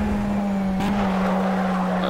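Race car engine in the racing video game Project Cars, a steady, loud droning hum held throughout with a brief burst of broadband noise partway through; no clear tire squeal stands out.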